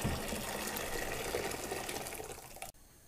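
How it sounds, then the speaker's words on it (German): Hot water gushes steadily into a metal steam juicer pot for nearly three seconds, a full splashing pour that cuts off abruptly near the end. "Heiß Wasser in den Dampfentsafter."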